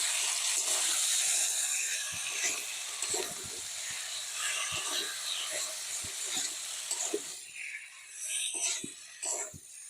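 Fried taro and potato sizzle and hiss steadily in hot spiced oil in a pan, a dense continuous frying crackle with occasional stirring knocks, louder at first and easing slightly toward the end.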